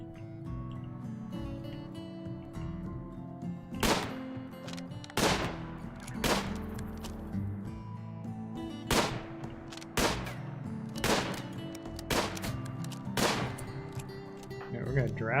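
A RimWorld colonist at target practice fires single gunshots one after another at irregular intervals of a second or two. Each shot is sharp and loud, with a steady tonal backdrop of game music underneath.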